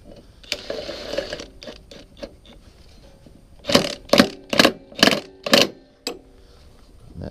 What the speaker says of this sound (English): And I'm going to hit it with the impact lightly.